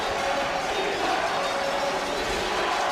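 A stadium crowd at a fistball bronze medal match between Brazil and Switzerland roars in a dense, continuous wall of cheering and shouting, loud and unbroken throughout.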